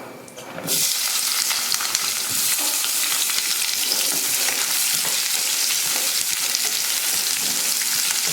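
Onions tipped into a pan of hot oil with already-fried cashews, for a paneer biryani, set off a loud, steady sizzle that flares up within the first second and stays dense and continuous, with faint stirring scrapes and no talking.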